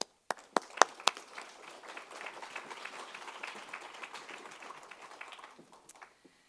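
An audience applauds as FleishmanHillard presenters are welcomed on stage. A few sharp, distinct claps open into sustained, dense applause that tapers off after about six seconds.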